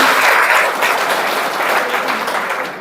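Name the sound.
audience clapping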